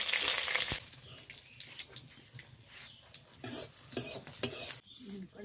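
Potatoes and green chili frying in oil with kalonji, with an opening burst of hissing sizzle followed by stirring scrapes and clinks in an uneven rhythm, close by.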